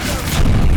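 A Bombarda spell detonates in Hogwarts Legacy, a brief, loud, close explosive burst with a deep rumbling low end.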